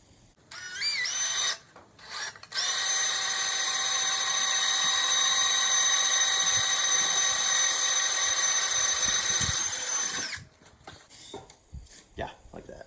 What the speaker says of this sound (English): First, we drill a big hole through it.